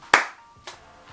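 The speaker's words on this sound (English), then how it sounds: "the sign simply lights up with a clap" Two sharp hand claps, the first loud and the second softer about half a second later, trigger a custom clap-activated neon sign, with a faint tone briefly between them.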